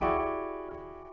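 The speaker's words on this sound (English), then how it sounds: "So if I played them like together in one chord, it'd sound like this." A single dissonant piano chord combining minor and major is struck and left to ring, its clashing tones sustaining and slowly fading.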